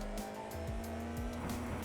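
A Formula 4 race car at Silverstone circuit screams through gear changes, its engine pitch climbing and dropping in stepped sweeps, loud and sustained with no talk.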